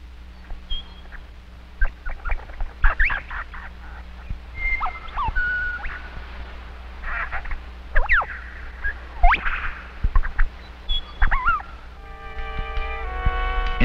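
A lyrebird runs through a string of mimicked bird calls: varied whistles, chirps and sweeping trills in quick bursts, with a rapid mechanical-sounding rattling sequence near the end, over a steady low background hum.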